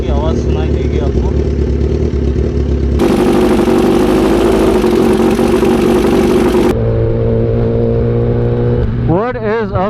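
Kawasaki ZX10R superbike engine running loud and close, its revs rising and falling through distinct sections, with a faulty cam chain tensioner on the right side under the steering; someone talks over it.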